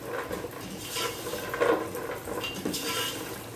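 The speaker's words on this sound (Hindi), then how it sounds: "अब ये काजू, पिस्ता और ये किशमिश डालेंगे। 1 मिनट इसको फ्राई करके" Cashews, pistachios and raisins fry in a pan for makhandi halwa, giving a soft, steady sizzle with a few light stirring scrapes, fairly quiet and close, with no voices.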